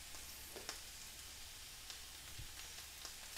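Squash and mixed vegetables sauté in a pan with a faint, steady sizzle and small crackles, quiet and close, with no one speaking over it.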